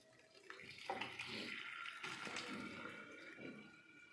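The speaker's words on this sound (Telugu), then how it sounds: "నేను రైస్ని దీంట్లో వేసి వడగట్టుతున్నాను." Boiled rice for Hyderabadi chicken biryani drains through a strainer, giving a faint, continuous gush and splash of water pouring off with soft spattering.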